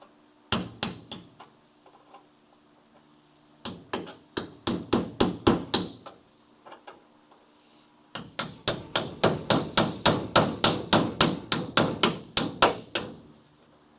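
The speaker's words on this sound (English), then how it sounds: "I don't really want to go hard with the hammer and the chisel" Hammer striking a chisel on the body of a Crew Cab Charger under restoration, sharp metallic blows in bursts: a few isolated hits, a quick cluster, then a long fast run of steady strikes, close and distinct.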